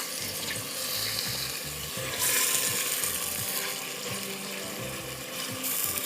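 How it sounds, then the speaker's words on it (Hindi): Pork or lamb chops searing in a hot pan for a continental chops dish, giving a steady broadband sizzle with occasional louder bursts of spitting fat and some clatter, heard alone without talk. "इसको आपने पहले अच्छा सा सीयर कर देना है"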